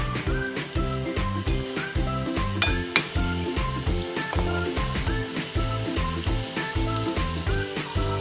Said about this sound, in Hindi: अब हम इसको मीडियम फ्लेम पे रखकर फ्राई करेंगे।